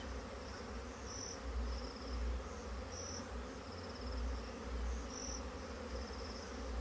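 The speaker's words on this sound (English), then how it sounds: "The swarm has arrived safely and sound." A honey bee swarm arriving at a hive makes a steady, dense buzzing drone that stays fairly loud and even throughout, with no voices.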